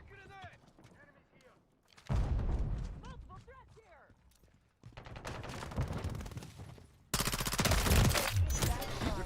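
Bursts of gunfire in a tactical shooter video game, with rapid automatic volleys separated by quieter stretches and a loud sustained barrage at the end, under occasional radio-style voice callouts.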